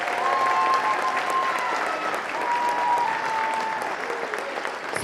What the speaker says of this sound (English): a nice round of applause for our third graders who were outstanding